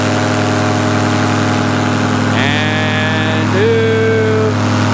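Paramotor engine held at full throttle in flight, a loud steady buzzing drone with a constant pitch that shifts slightly partway through, near and continuous.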